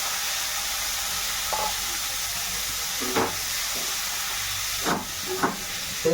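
Eggs fry in hot oil in a pan for a country-style egg curry, a constant hissing sizzle with steam and a few brief clatters of stirring, no speech.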